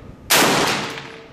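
A single sharp SCAR rifle shot cracks out loud and close, then trails off in a short ringing decay outdoors at a target range.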